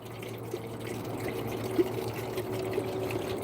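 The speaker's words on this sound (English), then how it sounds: "So now we're gonna pour some water." Water poured for tea outdoors at sunrise, a soft continuous trickle with a faint steady hum underneath, quiet and close, no talking.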